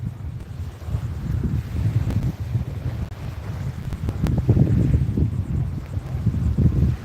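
Wind gusts across the microphone on a northeast Florida saltwater beach, a steady low rumbling buffet that swells and fades without voices.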